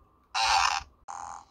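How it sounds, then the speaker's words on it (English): A Hornit Mini bike and scooter horn plays its fart effect: a loud, buzzy blast of about half a second, a short pause, then a second shorter, thinner burst, with no voices. "Fart."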